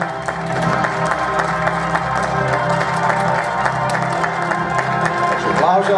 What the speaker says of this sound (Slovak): Potlesk stále trvá.